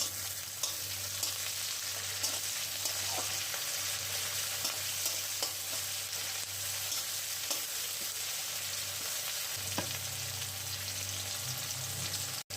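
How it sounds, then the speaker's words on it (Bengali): Onion and tomato fry in oil in a pan for a fish curry, a steady soft sizzle with occasional scraping stirs and faint clicks, close and continuous without voices. "পেঁয়াজ ভাজা ভাজা মতো হয়ে আসলেই এবারে দিয়ে দিলাম টমেটো।"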